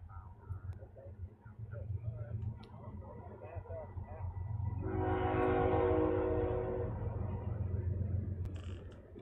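A train rumbles past in the distance on Florida's Space Coast, and a sustained multi-tone horn blares loudly for several seconds midway before fading under the steady rail noise.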